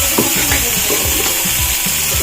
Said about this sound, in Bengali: বেগুনগুলো ভেজে দেবো